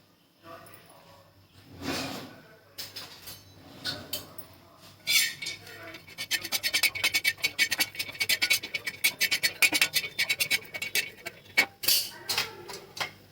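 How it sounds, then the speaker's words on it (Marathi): Coconut, peanuts and sesame dry-roasting in a pan on a gas stove, heard as continuous scraping, rattling and clinking stirring that grows busier and louder partway through, with a voice speaking at the start. "भाजून घेते मी खोबरं शेंगदाणे आणि तीळ भाजून घ्यायचे"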